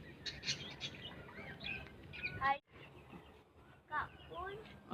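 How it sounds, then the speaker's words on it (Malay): Small birds chirp and tweet in quick bright bursts, fairly close, while people talk over them at times. "Ini ialah burung. Burung juga ialah benda hidup."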